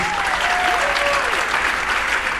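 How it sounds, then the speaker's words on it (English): A crowd at a 4th and 5th grade band and strings concert claps loudly and steadily in a brief dense burst of applause, with no voices over it. "Yeah, round of applause, please."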